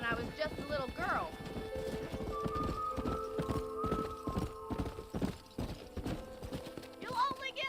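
Horse hooves clip-clopping in Red Dead Redemption, a steady rhythmic trot of close hoofbeats with a whinny near the start, under a sustained tone and a voice talking.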